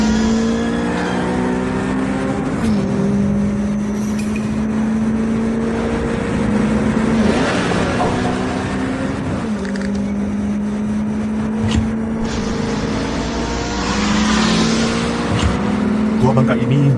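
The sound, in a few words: unmodified sports car driven at racing speed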